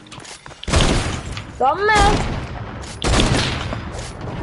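Gunshots in the video game Fortnite, a few loud sharp blasts with echoing tails, mixed with excited shouting from a player.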